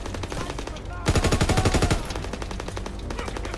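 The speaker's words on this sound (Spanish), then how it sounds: "¿Quién está disparando por ahí?" Rapid automatic gunfire in Call of Duty WW2, a dense burst of close, loud shots peaking for about a second in the middle, with steadier lighter firing continuing before and after.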